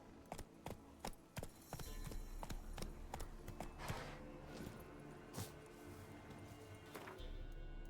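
Roach the horse from The Witcher 3 gallops in game, hooves clip-clopping in a quick, steady run that starts with sharp separate strikes and settles into a continuous thudding patter over a low background hum.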